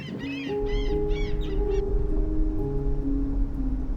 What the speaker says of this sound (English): And here's a seagull that's just looking down at the rest of us.